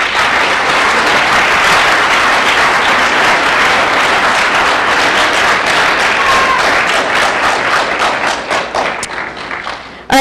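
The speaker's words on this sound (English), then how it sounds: "Round of applause for these folks" Sustained applause from an audience at an awards ceremony, dense steady clapping that holds strong for most of the stretch before thinning and fading toward the end.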